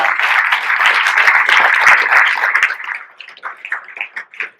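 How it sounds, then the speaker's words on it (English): A gadget-show audience applauds for a presenter: dense, loud clapping that holds for a few seconds, then thins into scattered individual claps as it fades. "Round of applause for John"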